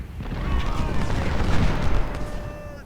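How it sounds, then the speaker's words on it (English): Artillery fire in the Civil War strategy game Ultimate General: Civil War, a dense rumble of booms and crackling reports layered together at moderate distance, with faint whistling tones over the barrage. "And enemy artillery is now opening up in larger numbers."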